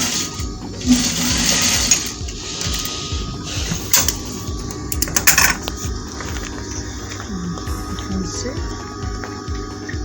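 Sewing machine stitching fabric for an African top, a steady rapid mechanical whir and needle clatter running throughout with brief clicks and small pauses.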